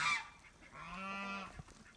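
Farm ducks, Pekins, mallards and runners, let out a single drawn-out nasal honking call, fairly quiet and alone, after a short faint squawk at the start.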